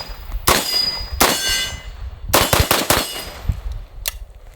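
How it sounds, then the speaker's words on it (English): AK-103 rifle firing 7.62x39 rounds at steel targets outdoors: sharp, loud gunshots come in a few single shots and a quick cluster of several, each followed by a ringing metallic clang from the steel plates. "I'm gonna shoot it a little bit on some steel here."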